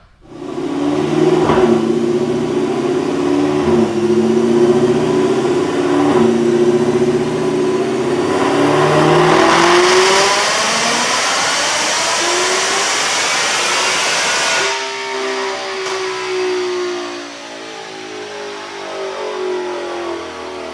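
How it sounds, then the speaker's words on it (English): A 2020 Ford Mustang GT500 on a dyno with a ported stock supercharger and Brenspeed Stage 2 package, near 1000 rear-wheel horsepower: a loud engine and whine climb steadily in pitch for about fifteen seconds, then drop sharply as the throttle lifts. "But speaking of dyno pull, let's go check it out."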